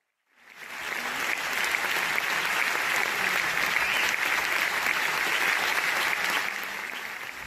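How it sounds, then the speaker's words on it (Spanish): A theatre audience applauds at the end of a performance of the play La Isla del Aire, starring Nuria Espert. The ovation swells quickly from silence into a dense, steady roar of clapping that holds strong throughout. "Estos son los más de 3 minutos de aplausos al finalizar la función de La Isla del Aire"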